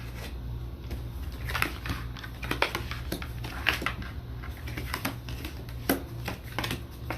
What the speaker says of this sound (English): You see me shuffle. You know I'm shuffling.